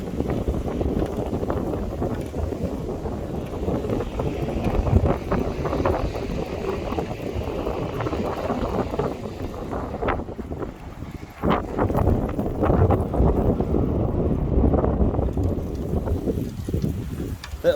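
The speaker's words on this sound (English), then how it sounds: "another windy one today" Steady wind buffeting the microphone while cycling along the Lanzarote coast, a dense continuous roar rising and easing in gusts throughout, heavier near the end, with faint speech mixed in.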